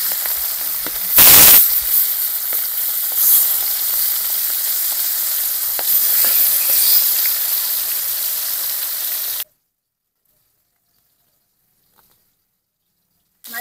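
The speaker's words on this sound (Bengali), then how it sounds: "আর ইলিশ মাছ কিন্তু বেশি ভাজতে হয় না, অল্পই ভাজতে হয়।" Hilsa fish pieces fry in hot oil in a pan, a loud close sizzle with a sharp hissing flare near the start that keeps crackling for several seconds, then cuts to near silence.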